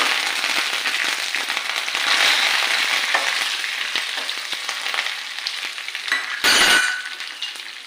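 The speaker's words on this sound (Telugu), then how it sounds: "నూనె బాగా కాగిందండి. వెల్లుల్లిపాయ వేస్తున్నాను, ఆవాలు, జీలకర్ర, ఎండుమిర్చి, కరివేపాకు" Garlic, mustard seeds, cumin, dried red chillies and curry leaves sizzle steadily in hot oil for a dal tempering, with dense crackling and popping throughout and a brief louder spatter burst near the end.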